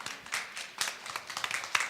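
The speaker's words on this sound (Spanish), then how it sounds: "Un aplauso para ti" A church congregation claps for someone, uneven bursts of hand claps, fairly quiet and somewhat distant, with a few sharper individual claps standing out across two seconds.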